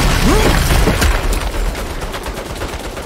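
Turret gunfire in the Saints Row video game: dense, loud bursts of rapid shots with booming impacts that start at full intensity and gradually thin out, with no voices over them.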